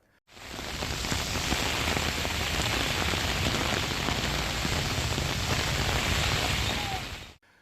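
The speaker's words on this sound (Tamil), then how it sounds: "காஞ்சிபுரம் சுற்றுவட்டார பகுதிகளில் 1 மணி நேரத்திற்கு மேலாக கனமழை வெளுத்து வாங்கியது." Heavy rain pours down in the Kanchipuram area, a dense, loud, continuous hiss of drops striking surfaces that holds steady for several seconds and then cuts off abruptly, with no voices.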